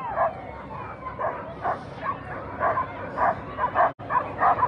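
Sled dogs at the start of an open world championship race bark, yip and whimper in eager bursts, close and continuous, with crowd noise faintly beneath.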